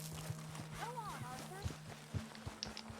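Horse hooves clop at a steady walking rhythm in Red Dead Redemption 2, soft and moderately close, with a low steady hum underneath and a brief voice partway through.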